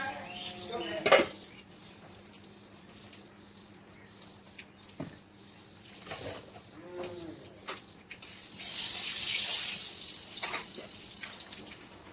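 A kadai wok is washed at a home kitchen tap: metal clanks and knocks of the pan, then a stretch of running water splashing into it, with faint voices in the background.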